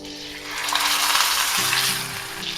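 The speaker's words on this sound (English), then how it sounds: "Now we're going to sear that quickly on that side and then we're going to flip it over." A flat iron steak sears in a smoking-hot pan, giving a loud, continuous close-up sizzle that swells and holds, with a faint low hum in the background.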